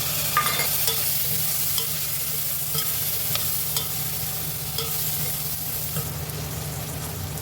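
Turmeric and chopped tomato frying in a pan for a Telangana tamarind stew, a continuous soft sizzle with occasional stirring scrapes, close and steady with no talking.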